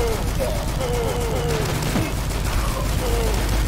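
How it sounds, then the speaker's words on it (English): Sustained rapid gunfire crackles throughout in the video game DUSK, loud and dense, with occasional whooshing sweeps layered over the barrage. "That's a lot of gunfire."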